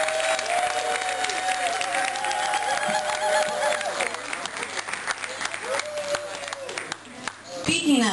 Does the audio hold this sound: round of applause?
yes